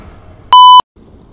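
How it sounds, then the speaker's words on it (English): A phone notification goes off during a Subnautica gaming session as one loud, sharp electronic beep of about a third of a second, clear and close above faint background hiss. "I need to put my phone on silent because that always happens when I'm recording a video."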